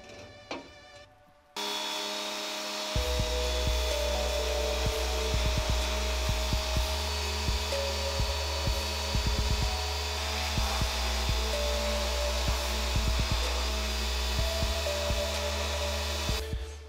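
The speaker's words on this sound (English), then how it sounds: "Let's see what the pressure washer can do with it." A pressure washer blasts an aluminum swing arm inside a wash cabinet: after a short quiet start, a loud steady hissing spray roars continuously, broken by frequent thumps and knocks as the part is worked under the jet.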